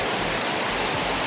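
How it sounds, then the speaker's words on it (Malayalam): Olichi waterfall at Varavoor roars as a dense, steady wash of rushing water, loud and unbroken throughout with no voices. "വരവൂർ ഒലിച്ചി വെള്ളച്ചാട്ടം"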